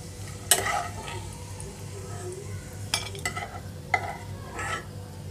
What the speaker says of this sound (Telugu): ఇవి కొంచెం వేగాలి ముందు నెయ్యిలో